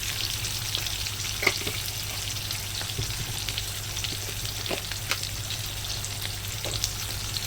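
Dal ingredients with salt and turmeric being stirred in a frying pan for a Bengali sour masoor dal with star fruit, giving a steady close sizzle broken by a few sharp spoon scrapes and clicks, no voices.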